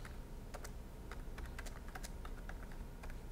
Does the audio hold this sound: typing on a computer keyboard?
yes